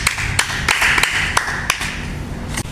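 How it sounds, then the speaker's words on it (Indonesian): A class of students in a fitness training session claps for a classmate, with scattered sharp hand claps and taps standing out over a steady roomy background hum. "Kita kasih tepuk tangan buat Filda."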